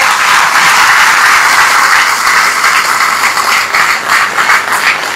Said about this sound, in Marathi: त्या खऱ्या टाळ्या माझ्यासाठी येत आहेत